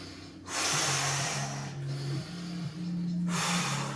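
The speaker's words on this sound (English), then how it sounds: "Breathe in through your nose as much as you can. In through your nose, out your mouth is fine. Let's try together a few breaths." A person doing a core workout takes slow, deep breaths in through the nose and out through the mouth, heard as two or three long, close, airy breath cycles with brief quiet gaps between them.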